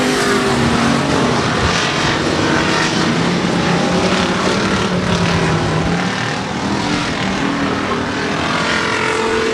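Pure stock race cars in a heat race at 105 Speedway, with engines roaring loudly and continuously as the pack circles the track, swelling and fading slightly.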